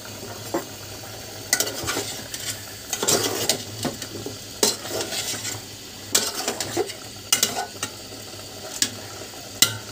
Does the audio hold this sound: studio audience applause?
no